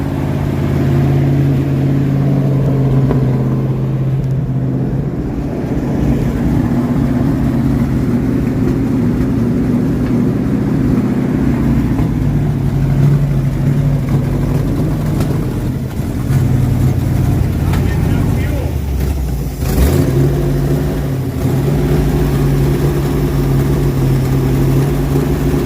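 A 1968 Dodge W200 Power Wagon engine with a poorly working carburetor idles roughly, a steady low rumble that wavers and surges unevenly throughout, close and loud with no talk over it.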